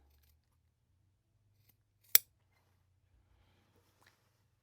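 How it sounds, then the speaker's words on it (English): A single crisp snip of scissors trimming the ends of quilted fabric binding, close and isolated against near silence. "Now I'm going to trim the ends of my binding so they align with the edge"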